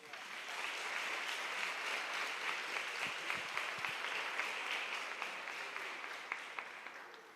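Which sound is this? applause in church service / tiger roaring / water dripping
applause in church service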